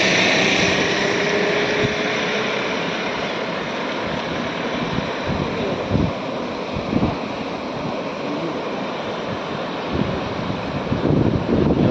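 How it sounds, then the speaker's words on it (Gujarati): Water in the Shetrunji river flows beside a bridge after out-of-season summer rain, making a steady broadband rushing that continues unbroken for the whole stretch with no one speaking. "પાણીનો અવાજ આવે. અહીંથી બાજુમાંથી પાણી નીકળી રહ્યું છે."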